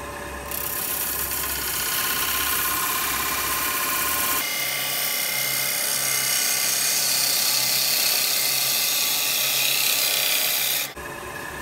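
A freshly sharpened, heel-relieved bowl gouge cuts green wood on a lathe for a natural edge winged bowl, a steady loud hissing shave that shifts pitch midway and stops abruptly near the end.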